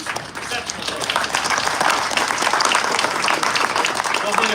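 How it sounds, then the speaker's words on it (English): Steady, dense applause from a crowd at an outdoor ribbon cutting for the Bigelow Gulch project, loud and continuous throughout with scattered voices mixed in. "Please join me in a round of applause for all these exceptional folks"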